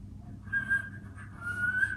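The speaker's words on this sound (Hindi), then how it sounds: "5 मिनट के लिए बैठ के हम बजाएंगे सीटियां" A single person whistles a steady, thin tone, holding notes with slight wavering, close by over a low background hum.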